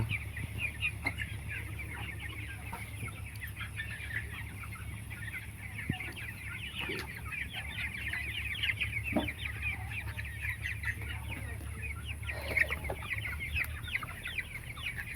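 Farm chickens clucking as they drink cold water, a steady stream of soft clucks and chatter from a flock at moderate distance, with no talking.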